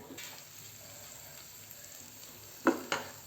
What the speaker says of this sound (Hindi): अच्छे से भून लेंगे इसे 2 मिनट के लिए।